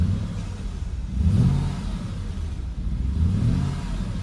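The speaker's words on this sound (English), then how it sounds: "Man, that is a healthy sounding V8." A 5.5 liter V8 engine in a car at a dealer auction, parked and given a couple of deep revs that swell and fall back toward idle, close and loud with no talking.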